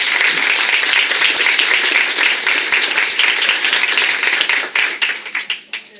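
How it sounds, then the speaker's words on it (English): A crowd at a neighborhood candidate forum applauds loudly and steadily, dense clapping filling the room before thinning out and fading into scattered claps at the close. "So let's give them a round of applause."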